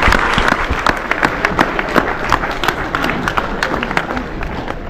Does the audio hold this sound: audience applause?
yes